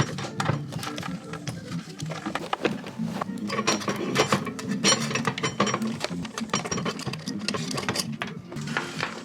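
Clattering mechanical work on a DTF printer as parts are unscrewed, with dense ratcheting, clicking and metallic rattles running steadily throughout at close range.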